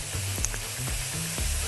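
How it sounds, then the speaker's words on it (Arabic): Garlic and coriander dropped into hot fat as a tasha for molokhia, a loud steady sizzle and crackle with brief stirring scrapes, close up and with no talk. "طشة توم وكزبرة بقى"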